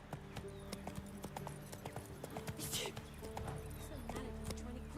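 Roach, the horse in The Witcher 3, gallops in the game with a quick, steady run of hoof clip-clops under in-game voices and ambient sound, faint in the mix.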